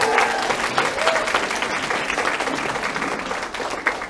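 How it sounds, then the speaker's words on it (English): An audience at a Christmas showcase in a club applauds a group of young singers, a dense, steady wash of clapping hands that fills the room at an even level for several seconds, with no voices over it. "Big round of applause for them."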